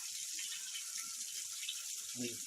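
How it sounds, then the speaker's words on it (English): Water runs steadily from a communal tap serving a whole community, a continuous broadband hiss close by with faint low knocks and a brief splash toward the end. "We have permanent running water."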